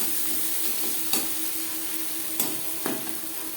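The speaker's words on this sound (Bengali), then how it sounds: "পেঁয়াজ ভাজা হয়ে গেছে" Steady sizzling of onions frying in oil, a constant hiss with a few sharp scraping clicks of stirring.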